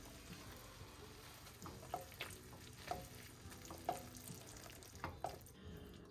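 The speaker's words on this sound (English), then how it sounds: "we're going to give this a good stir till all the cheeses are melted" A spoon stirs Mexican street corn dip in a pan as the cheeses melt, giving faint rhythmic scrapes and soft sizzling, quiet and close with no talk.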